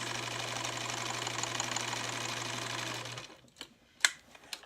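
A sewing machine runs steadily and stitches without thread breakage, a close, even mechanical whir with a low hum. After about three seconds it stops, leaving a few faint knocks and clicks.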